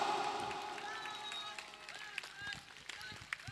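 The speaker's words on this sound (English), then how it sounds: "put up your big round of applause" Audience of teachers and parents applauding at a school biennial concert, a sustained crowd clap fading gradually under a faint background voice, with a few sharp isolated claps toward the end.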